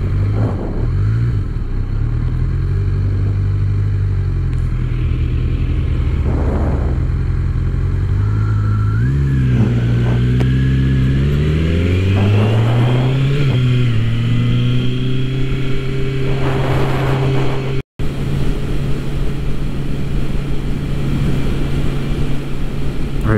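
A car engine idles roughly, then revs up and down in several rising and falling pulls as the driver tries not to stall, loud and close, then settles back to a steady idle.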